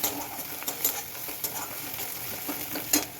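Ginger-garlic paste being fried and stirred in a pan for egg tarka, a soft, close sizzle under quick spatula scrapes and taps that come every half second or so, with no talking.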